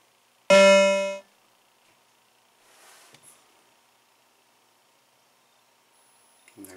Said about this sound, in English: That's the sound of the game kicking on.